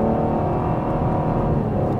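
A Cadillac CT5 3.0T engine in Tour mode pulls at half throttle with a loud, steady low rumble and droning whir from inside the car, without speech.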